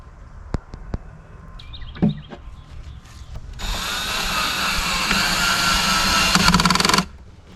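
A power drill drives screws into wooden trim on a boat's upper cabinet, with a few sharp taps and clicks first, then a loud, steady whir lasting about three seconds before stopping.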